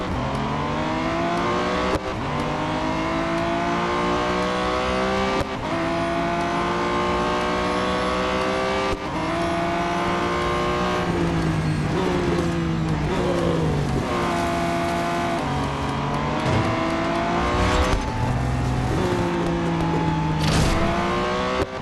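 A GT4 race car in the Real Racing 3 video game screams around Laguna Seca, its engine revving hard and climbing through gear shifts, with brief tire squeals, loud and continuous throughout.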